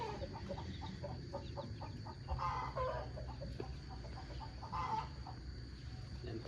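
Backyard chickens cluck and call in repeated short bursts at moderate distance, with brief louder squawks, over faint background noise.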